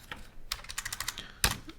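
Quick bursts of typing on a computer keyboard, with irregular soft key clicks and a couple of louder taps, close and fairly quiet.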